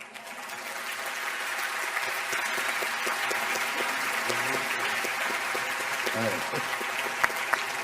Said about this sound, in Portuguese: Palmas para a velhota.